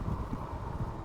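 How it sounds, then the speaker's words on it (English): Wind buffets a microphone outdoors during an e-bike ride, a low rumbling gust noise steady through the brief moment with no other sounds. "Boy, it's still pretty windy out here."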